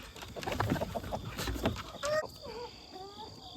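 Barred Rock chickens cluck softly during morning farm chores, scattered short clucks and a few rising calls, faint and close, with some rustling and brief quiet speech around them.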